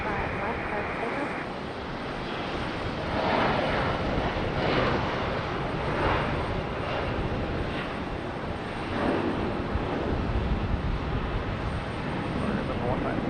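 A jet airliner rolls for takeoff on runway 5 left at Raleigh-Durham International, its engines a steady broad roar that swells slightly over the span, heard from a distance with tower radio chatter over it.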